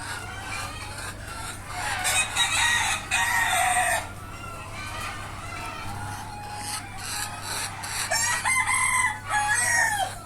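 Native Bangladeshi chickens cluck and squawk repeatedly on a farm, hens clucking and a rooster calling, near and lively over a low steady hum.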